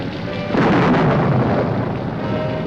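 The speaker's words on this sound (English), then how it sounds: "An intense storm causes her to crash." An intense thunderstorm from the 1955 film Bride of the Monster swells into a loud, rolling rumble of thunder over a constant hiss of rain, continuing without talk.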